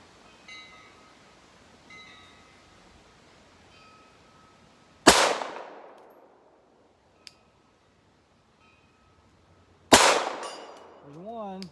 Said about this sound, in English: Glock 34 with the RMR. Let's see what we can do. We'll do 3 shots with this one.